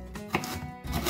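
A knife cuts hard quince into small cubes on a board, giving two quiet, dull knocks about half a second apart against a soft background.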